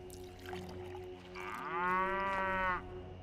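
A shaggy highland cow in Skyrim, near Rorikstead, lets out one long, loud, drawn-out moo over steady game ambience.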